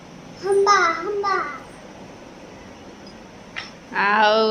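A voice imitates a cow's moo in a short drawn-out call, followed by a second brief vocal sound a few seconds later.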